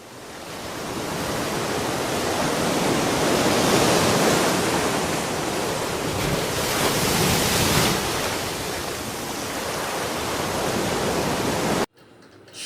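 Sea waves roll onto the beach at Cox's Bazar, a loud, continuous broad rush of surf swelling and easing, heard alone without voices until it cuts off abruptly near the end.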